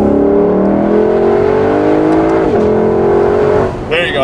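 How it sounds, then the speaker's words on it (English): A Lexus LC500 convertible engine revs up steadily, its pitch climbing as it accelerates, then cuts off abruptly near the end with a brief higher whine. "I wanted to do an acceleration for you here."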